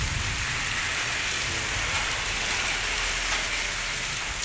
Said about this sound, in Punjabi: ਗਰਜ ਦੇ ਨਾਲ بارش ਪੈ ਰਹੀ ਹੈ